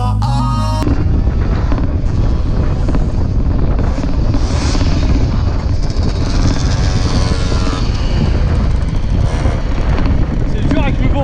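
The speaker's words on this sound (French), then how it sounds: "Il y a trop de vent." Heavy wind buffets the microphone during a bike ride in Le Havre, a constant loud low roar with gusty rumble, and voices talk faintly beneath it.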